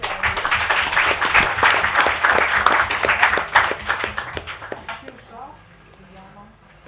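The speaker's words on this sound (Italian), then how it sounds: "Prego, un applauso." Audience applause at an Italian event on 5G and digital culture, a dense patter of claps that fades toward the end, with voices over it.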